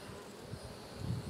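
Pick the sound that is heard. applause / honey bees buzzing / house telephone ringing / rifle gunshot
honey bees buzzing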